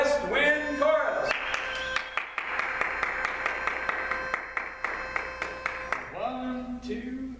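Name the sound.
audience applause for the West Wind Chorus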